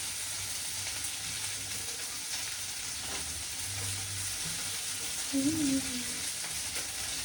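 Garlic and ginger frying in a pan give a steady, close sizzling hiss throughout, with a faint brief voice-like sound near the end.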